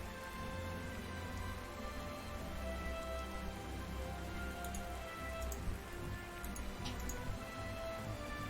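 Rain in the WWII strategy game Panzer Corps 2, a steady soft patter of falling drops with faint ticks, continuous and even, no talk over it.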